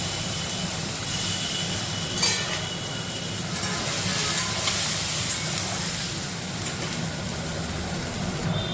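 Tomatoes go into hot oil with fried tempering spices in a home kitchen, setting off a steady, bright hiss and sizzle that continues evenly throughout.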